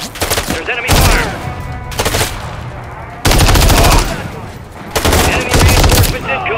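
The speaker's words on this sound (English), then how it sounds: "There's enemy fire!" Enemy gunfire in a Call of Duty campaign mission: several loud, rapid machine-gun bursts separated by brief quieter gaps, close and punchy throughout.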